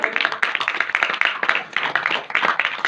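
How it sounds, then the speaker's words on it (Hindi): An audience at a Ramayana recital gathering claps in quick, uneven rhythmic bursts, the nearby hand claps loud and sharp without speech over them. "बिल्कुल ताली बजना चाहिए।"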